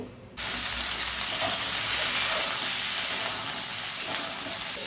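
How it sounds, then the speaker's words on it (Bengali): Pointed gourd pieces fry in hot mustard oil with a little salt, giving a loud, dense, even sizzle that starts abruptly and holds steady close by. Nobody speaks. "কড়াইতে সর্ষের তেল গরম করে নিয়ে দিয়ে দিচ্ছি অল্প লবণ দিয়ে এবার পটলগুলো ভেজে তুলব।"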